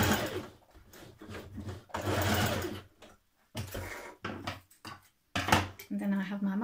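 A sewing machine runs basting stitches along the bottom edge of pleats on a Simplicity 8546 shirt dress, in several short bursts separated by pauses, close and moderately loud.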